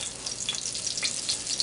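Fish frying in a cast iron skillet, a steady close crackling sizzle with bright spattering pops throughout, no talking.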